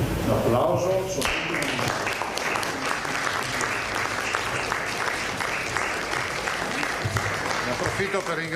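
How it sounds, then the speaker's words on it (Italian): Sustained applause from an audience at a regional government press briefing, dense steady clapping continuing throughout after a brief noisy start, with some voices mixed in. "L'applauso."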